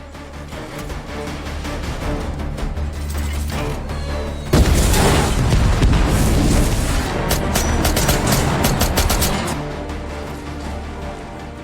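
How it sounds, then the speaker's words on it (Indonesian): A grenade fired by a robot dog explodes in the action film Operation Hadal, a sudden loud boom midway that follows a tense rumbling buildup, then gives way to crackling debris and gunfire-like bursts. "Robot itu lalu menembakkan granat ke arah Tong Li."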